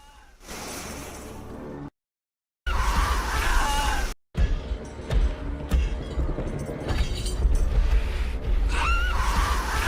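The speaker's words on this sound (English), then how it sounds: "Oh, that's such a similar screech. Maybe it's the sound that she makes when she attacks you?" A shrill enemy screech from the survival horror game Resident Evil Requiem cuts in between two brief silent gaps, followed by thuds, groans and further shrieks at close range.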